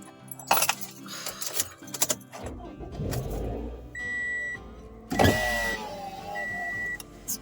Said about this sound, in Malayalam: വണ്ടി ഒന്ന് സ്റ്റാർട്ട് ചെയ്തെടുക്കാം